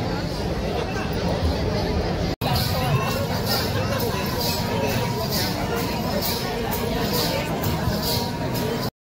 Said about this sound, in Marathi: खूप गर्दी आहे, खूप।